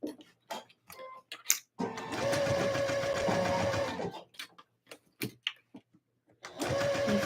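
A sewing machine stitches in two steady, humming runs of about two seconds each, close and even, separated by clicks and brief handling sounds.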